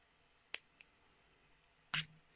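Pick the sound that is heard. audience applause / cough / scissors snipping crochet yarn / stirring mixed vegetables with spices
scissors snipping crochet yarn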